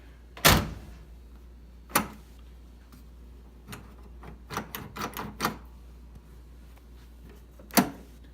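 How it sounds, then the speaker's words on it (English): Door locks on a 1965 Ford Mustang clunk in a series of sharp mechanical thunks and clicks, a loud one first, then a scattered cluster of quicker clacks and a final strong thunk, close by with no talk. "Door locks work."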